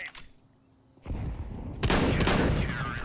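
Grenade throw in a first-person shooter match: a quiet lull, then a sudden loud burst of gunfire and explosive noise that stays dense and sustained to the end.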